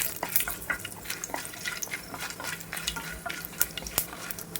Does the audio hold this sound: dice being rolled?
no